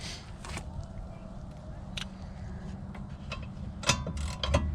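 Ratchet clicks come in short bursts as the last caliper mount bolt is worked loose on the rear brakes of a 1997 Cadillac Seville SLS. Steady low garage hum sits beneath, and a louder cluster of clicks arrives near the end.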